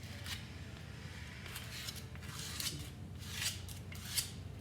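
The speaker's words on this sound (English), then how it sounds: "just go through and just kind of give it kind of one more light scrape all the way across" A pottery marble vase is hand scraped with a tool in light strokes across its surface, giving a steady dry rasping and scratching with several brighter scrape bursts over a constant low background hum.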